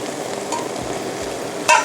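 Shrimp and egg stir-fry sizzling in a pan as tapioca starch water goes in, with steady frying hiss, soft stirring scrapes and a brief louder clatter near the end.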